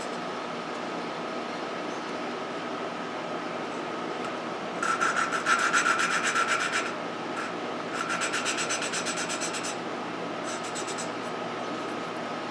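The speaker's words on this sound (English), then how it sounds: "if I pull it up, push it back down and spin it, you can hear it's a coarse rub, and then as it spreads the stuff, it gets a finer sound." Lapping a valve on a 1971 Honda CB175 engine with a suction-cup tool produces a coarse, gritty rasping rub in short back-and-forth bursts over a faint steady background hum, with no talking.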